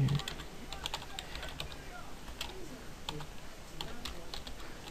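Quick, light clicks of typing on a computer keyboard patter steadily throughout, faint and close over a soft background hiss.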